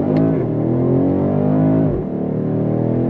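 A 2022 BMW X7 M50i luxury SUV pulling away hard from a stop sign, its engine droning loud and steady with rising pitch before a brief dip as it shifts, heard from inside the cabin with no talk.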